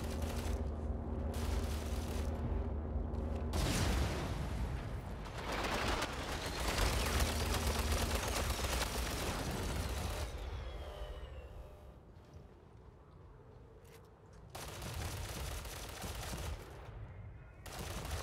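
Gunfire in Ghost Recon Phantoms as shots are fired at an enemy's shield, rapid automatic bursts and fusillades with mechanical clicks and rattles, loud in several clusters separated by quieter gaps, with occasional talk.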